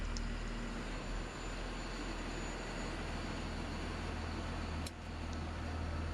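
Snow trail groomer engine idling inside a shed, a steady low droning rumble with a constant hum, fairly close and unchanging throughout, no voices.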